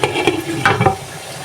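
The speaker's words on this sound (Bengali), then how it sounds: "চিকেনটাকে মিক্স করে এরপরে চুলার আঁচটাকে আমি লো করে ঢেকে দিব।" Chicken korma being stirred and mixed in a pan on the stove, with a few soft scraping strokes over a low frying sizzle, close and moderately loud.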